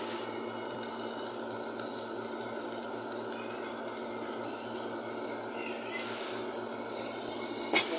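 Bitter gourd sautéing in a pan for a stir-fried poriyal gives a steady, moderate sizzle and hiss that holds evenly throughout. A small clink comes near the end and nobody speaks.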